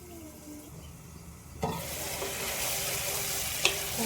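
Ingredients for vendhiya kozhambu sautéing in hot oil: a quiet start, then a steady, close sizzle that sets in suddenly and runs on with a brief clink near the end.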